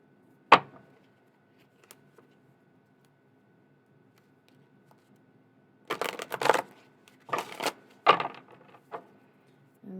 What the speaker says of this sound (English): I like to just shuffle until the cards stop coming out